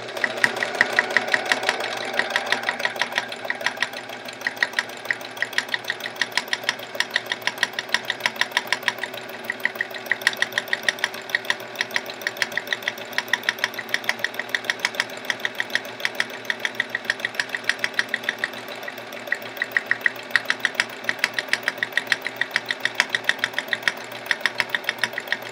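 A sewing machine stitches steadily during free motion quilting on a chevron quilt near the fabric edge, a dense rapid needle rhythm running nearly continuously and fairly loud, with slight shifts in speed.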